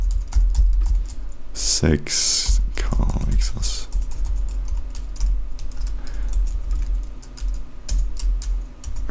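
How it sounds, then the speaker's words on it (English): Computer keyboard keys clatter in quick, uneven runs while code is typed for a product landing page, close and steady under a man's ongoing speech, with a short burst of louder clicking near the start. "here I am typing the whole thing again."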